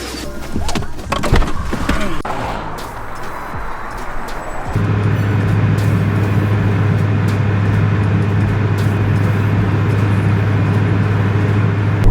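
A twin-turbo Audi R8 settles into a loud, steady engine drone at full boost after a noisy, rustling start, with traffic audible in the background.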